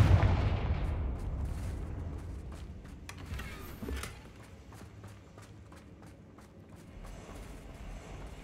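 Fiery blasting spell cast in Hogwarts Legacy on PS5, a loud booming burst at the start that fades into rumbling game ambience, with further crackling impacts and a second thump near four seconds.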